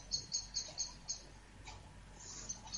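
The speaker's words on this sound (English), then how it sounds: "There might be a bird outside the window." Small bird calling outside a window, a quick series of high, thin chirps repeated in a short rhythmic burst, faint and distant, followed by a few scattered softer peeps.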